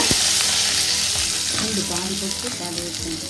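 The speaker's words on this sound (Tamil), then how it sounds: "இப்போ இதில் எடுத்து வச்சுருக்க ஒரு நெல்லிக்காய் சைஸ் அளவுக்கு புளி அதை போட்டுக்கோங்க" Dried red chillies and tamarind fry in a pan for beetroot chutney, giving a loud, constant sizzle with a few scraping stirs and light metallic clinks partway through.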